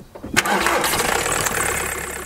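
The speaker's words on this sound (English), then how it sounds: "Bring the coolant level up just above the minimum mark and then start the engine." A Skoda Fabia Mk1 with the 1.9 PD diesel engine cranks briefly and fires up, then settles into a loud, steady, clattering idle close by, no talking.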